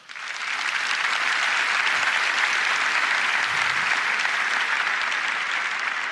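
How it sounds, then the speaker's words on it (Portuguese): A large congregation applauds at an outdoor Mass during a church camp, steady dense clapping rising quickly and holding for several seconds. "Aplauda."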